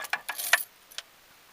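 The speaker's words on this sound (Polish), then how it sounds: "Należy przekręcić kluczyk." Car key turning in the ignition of a Renault Megane Scenic with an immobilizer problem: a few short metallic jangles and clicks close by in the first half-second, then a faint click, with no talk.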